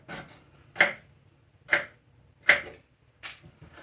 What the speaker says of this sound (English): I am pretty good at chopping onions.